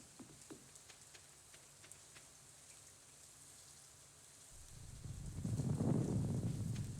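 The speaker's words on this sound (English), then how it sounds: "we get to go outside and listen to the rain again, which is very nice." Soft game rain from Stardew Valley patters faintly with scattered light drips, then swells into a louder rushing wash of rainfall toward the end, no voices.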